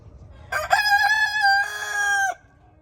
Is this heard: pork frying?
no